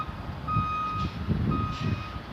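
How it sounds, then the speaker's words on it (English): Reversing beeps from a small yard truck that hitches trailers and shuttles them between two sides of a lot, two steady tonal beep runs over a low rumbling engine, fairly clear and alone. "that's a little truck, and all its purpose is to hitch up these trailers and go from"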